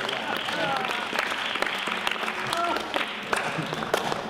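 An audience applauds at a tango singer performance, a sustained wash of clapping with voices heard faintly over it.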